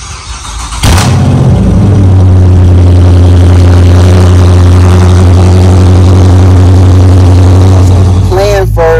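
A Can-Am Ryker three-wheeled motorcycle firing up from a cold start: a sharp crank catches into a loud, steady, droning idle that runs close and unbroken for several seconds before a brief squealing burst near the end.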